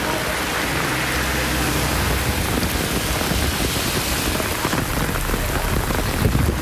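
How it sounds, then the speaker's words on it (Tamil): Heavy rain pours down steadily in a dense, loud hiss across Tamil Nadu during a thunderstorm lasting over an hour, without a clear thunder clap standing out. "இடி மின்னலுடன் 1 மணி நேரத்திற்கு மேலாக கனமழை கொட்டித் தீர்த்தது"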